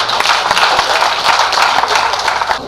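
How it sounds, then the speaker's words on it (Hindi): An audience claps for poet Renu Hussen at a kavi sammelan, a loud, dense, steady patter of many hands sustained throughout before tapering slightly at the end. "रेणु हुसैन जी को फिर एक बार मिलकर तालियां देंगे।"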